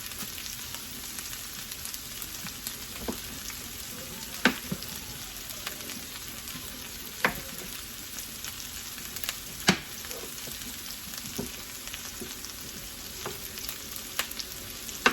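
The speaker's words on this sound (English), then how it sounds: "it can be mixing with the other oil as I fry the potatoes" Potatoes frying in oil, a long steady crackling sizzle with scattered sharp pops and occasional utensil clicks, quiet and even throughout.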